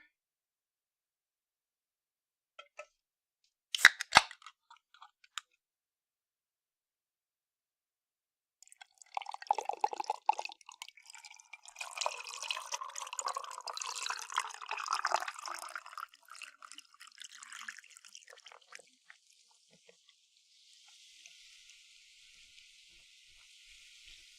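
Liquid is poured during a live stream, with a few isolated drips at first, then a quiet, crackling trickle of pouring and dripping that swells, thins out and gives way to a faint hiss.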